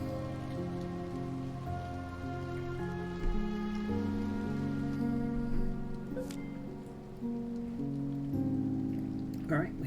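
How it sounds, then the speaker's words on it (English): Steady rain falls across the scene in the game To the Moon, a soft continuous patter with a gentle melodic music bed running throughout and no voices. "Guess I'll stand out in the rain."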